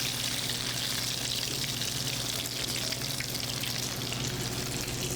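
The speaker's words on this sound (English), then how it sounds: "See how it's frying up there?" Steady crackling sizzle of food frying in hot oil, continuous and close, with a low hum underneath and no voices.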